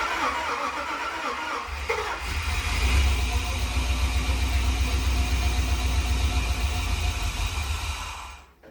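A V8-swapped Nissan 240SX cranks with a starter whir for about two seconds, then catches and settles into a loud, rumbling idle that runs steadily before cutting off at the end.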